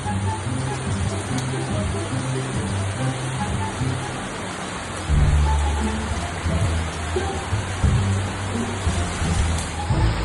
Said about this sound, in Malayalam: നല്ല മഴ ആണല്ലോ.